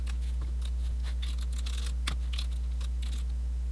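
Keys clatter on a computer keyboard as commands are entered to configure a Cisco ASA firewall subinterface, a quick irregular run of soft clicks over a steady low electrical hum.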